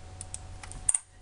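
Light, quick clicks of keys on a computer keyboard as code is typed, faint and close, with a few soft taps and then two sharper keystrokes near the end.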